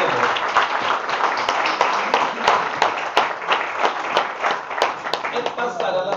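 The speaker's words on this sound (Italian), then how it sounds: "Vorrei concludere quindi con un applauso per Franco e per persone come lui" Audience applause at a morning meeting in Naples, dense and steady clapping from a crowd in a hall, moderately loud and sustained across the whole stretch without speech over it.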